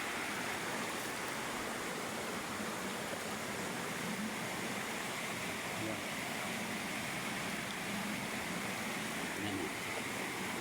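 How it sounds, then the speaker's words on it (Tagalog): Strong river current rushes loudly and steadily at a crossing point, a dense continuous roar of churning water filling the whole span, with some speech-like murmur faintly mixed in. "Lakas ng tubig, grabe."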